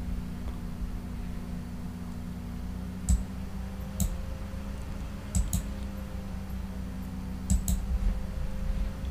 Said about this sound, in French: maintenant on va cliquer sur le contour